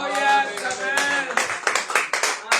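A church congregation at a Sunday service claps and cheers, with a loud voice calling out over the start and then a run of quick, scattered hand claps.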